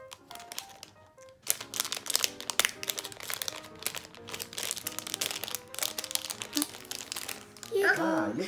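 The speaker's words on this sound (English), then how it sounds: "You rip it." Plastic packaging of a dollar-store toy bop ball ripped open at home, with crinkling and tearing bursts under chatter from a child and a parent, ending in a louder rustle.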